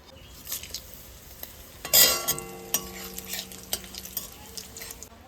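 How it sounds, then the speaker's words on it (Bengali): Bay leaves and black cumin fry in hot oil for a taro curry, giving a soft, close sizzle broken by a few clinks of a stirring utensil against the pan, with no talking. "ফোড়নে দেবো তেজপাতা আর কালো জিরে"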